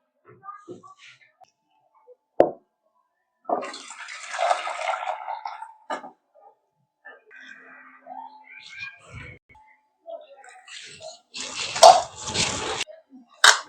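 Dill greens being rinsed in a bowl of water, intermittent splashing and swishing bursts with drips between quiet pauses, close by.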